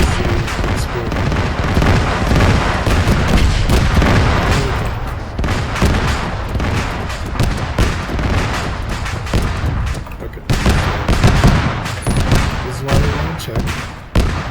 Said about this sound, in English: Hope you can hear it over the explosions.